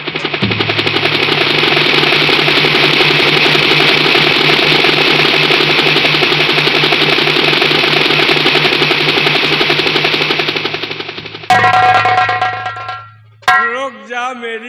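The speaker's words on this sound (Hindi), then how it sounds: "रुक जा मेरी हेलीकॉप्टर।" Loud, continuous whirring engine drone, steady for about eleven seconds before it winds down and stops, followed by scattered short sounds; heard as a helicopter in a story skit.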